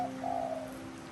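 Bird in Bali giving a short, soft cooing call, heard up close and alone against a quiet background.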